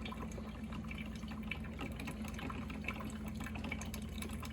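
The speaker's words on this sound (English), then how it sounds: "this is what's called a drip coffee maker, by the way, because you can hear that drip." A Black & Decker drip coffee maker brewing: a continuous soft hiss and gurgle with faint, irregular drips running steadily throughout, fairly quiet and with no voices.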